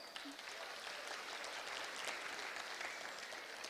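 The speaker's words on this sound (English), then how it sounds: "So one more round of applause for her." An assembly crowd at a school Veteran's Day event claps for a veteran, a steady, fairly faint wash of applause from many hands heard from a distance, with murmuring voices underneath.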